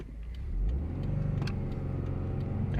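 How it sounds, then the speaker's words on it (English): A Mazda RX-8's engine revs up from a low rumble into a steady, buzzing drone while driving, close and moderately loud with no voices. "This is the Mazda RX-8."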